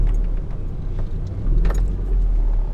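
A manual stick-shift pickup truck rolls over a series of speed bumps, its engine rumbling loudly and steadily up close, with faint jangling rattles and a few bumps and clunks from the cab.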